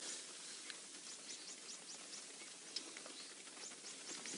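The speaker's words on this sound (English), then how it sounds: "Maybe you can hear the pitter-patter of the rain." Soft, steady patter of rain falling in the Mara Triangle savanna, a faint, distant hiss with scattered light drips throughout and no talking.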